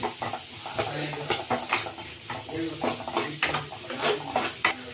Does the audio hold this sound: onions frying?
yes